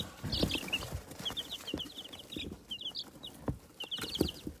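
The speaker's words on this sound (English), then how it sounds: "So we have 7 new baby chicks" A brood of seven new baby chicks kept in a home garage, with a steady run of thin, high peeping calls, close and fairly quiet, over soft rustling and shuffling.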